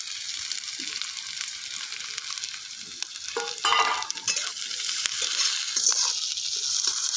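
Green chillies frying in oil in a wok, a continuous close sizzle with scraping stir strokes and brief louder bursts of crackling as they are turned.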